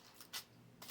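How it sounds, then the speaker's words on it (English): Scissors trim tissue paper off a craft piece in two quick, quiet snips, close by, with near silence between them. "All you do is just cut the tissue paper off."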